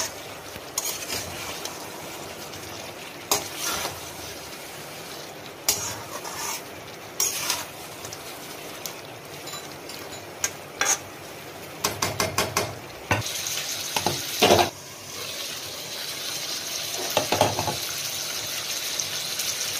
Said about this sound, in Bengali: ঢাকাটা খুললাম, একবার নেড়ে দেবো।